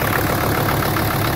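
A Mercedes W123 diesel engine runs steadily at idle, a loud, dense clatter held close and unbroken throughout with no voices.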